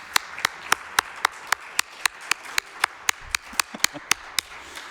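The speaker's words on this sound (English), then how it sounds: "Round of applause." Steady handclaps at a city council meeting, sharp evenly spaced claps about three per second, fairly close and clear over a low room hum, with no talking.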